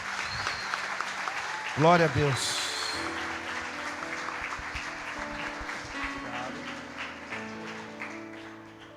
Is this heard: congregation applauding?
yes